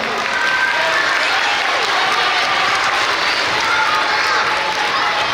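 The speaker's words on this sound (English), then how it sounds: "let's give them all a round of applause" School assembly crowd applauding students, sustained loud clapping from many hands filling the hall with a constant, even roar and no talking on top.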